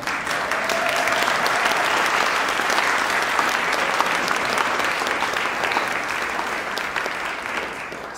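Sustained audience applause filling a concert hall at the Royal Opera in Stockholm, dense and steady throughout at full strength, easing slightly near the end.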